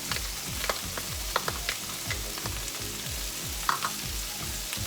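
Garlic sizzling in hot oil in a pan, fried with ginger for milkfish in black bean sauce: a steady loud crackle with scattered pops and a few stirring clanks, no voices.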